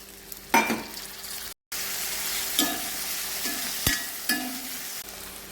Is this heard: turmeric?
yes